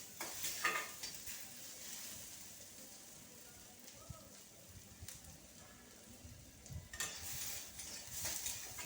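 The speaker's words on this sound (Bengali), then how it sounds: "তো এটাকে ভালো করে ভেজে নেব পেঁয়াজটা" Onion frying in a pan with garlic and chili, a soft, low sizzle with scattered clinks and stirring scrapes, fairly quiet and close, without talk.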